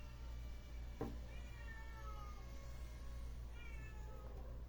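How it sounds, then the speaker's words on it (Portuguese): A cat meows twice, trying to get into a sewing workshop, the calls moderately loud over a steady low machine-like hum, with a sharp knock between them. "isso aí é a minha gata tentando entrar no ateliê"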